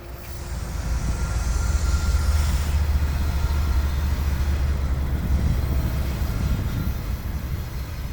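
A CSX Tropicana intermodal freight train rolls past heading north toward Tampa, a loud, steady low rumble of wheels and cars that swells early and holds throughout, with no voices.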